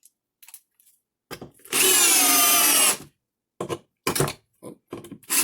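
A Bosch 12V brushless drill/driver spins up in one loud burst of roughly a second, surrounded by short clicks and handling noises in an otherwise quiet room.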